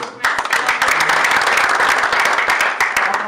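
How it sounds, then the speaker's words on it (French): Lively audience applause at a theatre round-table event, many hands clapping steadily and fairly close, with a few sharper individual claps standing out through the whole burst. "On l'applaudit."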